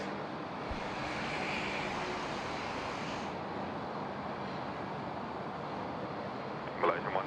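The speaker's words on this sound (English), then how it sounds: "Qantas 23 off to Bangkok here. It's the A333." A Qantas Airbus A330-300 begins its takeoff roll on runway 34 left at Sydney Airport. Its jet engines give a broad, steady roar heard from a distance, and a brief voice cuts in near the end.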